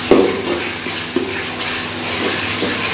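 Tomatoes tossed into a frying pan for plain rice pulao give a soft steady sizzle as they are stirred, with a few light scrapes and clinks against the pan.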